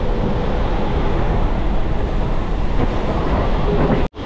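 A special train runs toward Digha, its dense, loud, steady rumble of wheels and carriages filling the whole stretch before cutting out abruptly near the end.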